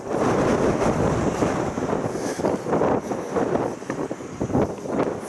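Strong wind blowing hard across the microphone outdoors during a 5-kilometre walk, a continuous loud roaring rush with gusty surges and no talking.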